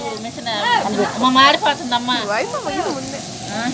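Onions sizzling in a hot pan for masala rice, a steady frying hiss running under someone talking close by throughout.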